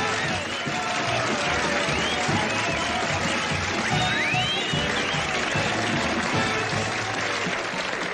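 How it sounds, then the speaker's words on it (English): Audience applause in a Western drama, a dense, steady wash of many hands clapping, heard at moderate distance and continuing evenly throughout without a break. "it's so good to hear that applause"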